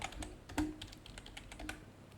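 Typing on a computer keyboard while naming an animation in Construct 3: soft, quick, irregular key clicks fill about two seconds, close but quiet, with no voice.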